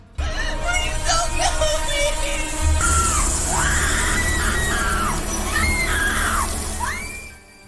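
A woman screams in a horror film about a psychopath, a long series of loud, shrill, wavering shrieks and wails rising and falling close up, over a rumbling soundtrack before fading out.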